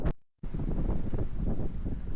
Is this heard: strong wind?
yes